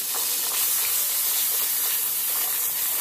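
Cinnamon sizzling in hot oil left over from frying cauliflower, a loud continuous crackling hiss, close and steady throughout.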